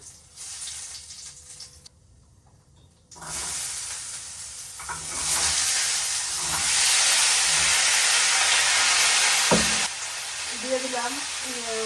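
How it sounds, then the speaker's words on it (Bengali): Sweet pumpkin pieces frying in hot oil with a black cumin seed tempering, giving a steady loud sizzle and hiss that swells and holds for several seconds, briefly dropping out near the start. "আগে মিষ্টি কুমড়া ভাজিটা বসাই দিই দিয়ে দিলাম কালো জিরে ফোড়ন"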